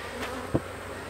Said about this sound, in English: try and brush the bees off so I don't smash any